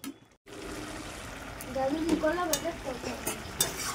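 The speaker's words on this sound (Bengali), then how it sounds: "ভালো করে একটু নেড়ে চেড়ে নিচ্ছি" Masoor dal with turmeric stirred in a cooking pot, a steady soft wet scraping and sloshing that builds after a brief quiet start, with faint sizzling underneath.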